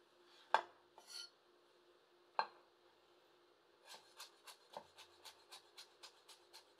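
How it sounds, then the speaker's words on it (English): A knife rock-chopping carrots on a wooden cutting board: two sharp isolated cuts, then a quick steady run of about ten light rhythmic taps, close and fairly quiet, no talking. "No wedging whatsoever, cutting very cleanly through the carrots."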